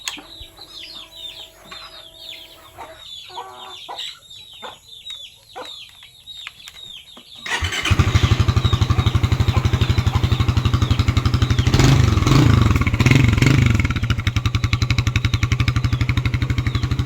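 Chickens cluck nearby at first, then a motorcycle with a bottle cap stuffed into its exhaust starts up and idles loudly, its steady rapid putter dominating as it revs briefly midway.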